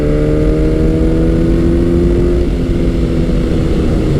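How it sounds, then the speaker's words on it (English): A Kawasaki Z900 with its 948cc engine pulls hard in top gear, a steady dense engine drone with rising harmonic lines, continuous and fairly loud, likely recorded from the rider's position with wind noise. "948cc engine, so it's really closer to a 950, and it's a very quick revving motor."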